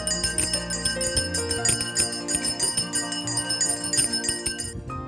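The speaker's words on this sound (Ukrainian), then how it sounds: "Ну як тобі наш перший дзвоник?" A school bell rings rapidly and continuously for about five seconds, bright and fairly loud, then stops abruptly, at a first-day-of-school ceremony at a lyceum in Kharkiv.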